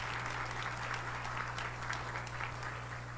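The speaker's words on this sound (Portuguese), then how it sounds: "queremos acolhê-lo com uma calorosa salva de palmas" Warm, steady applause from a church audience welcoming a priest speaking at a Bible formation gathering, continuous dense clapping filling the room with a low hum underneath, no voices over it.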